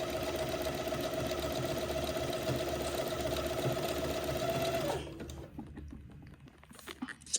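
A domestic sewing machine tacks a ruffle onto fabric for a funeral pall, running with a steady, fast mechanical whir close up for about five seconds before it stops and leaves faint handling noises.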